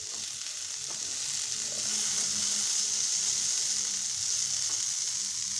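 Potatoes mixed with turmeric frying in a pan, a steady close sizzle that holds even throughout with faint stirring underneath and no talk.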